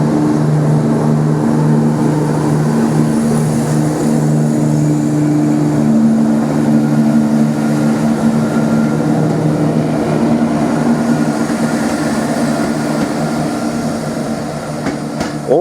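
A Class 170 Turbostar diesel multiple unit, 17207, pulls away from Trimley Station on the Felixstowe branch line. A steady, loud, droning engine note with sustained low tones holds for the whole stretch, and no one speaks.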